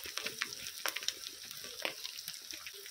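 Crackling sizzle of ginger-garlic paste and turmeric powder frying in a pan, quiet overall with irregular pops and spatters over a soft hiss, no voices.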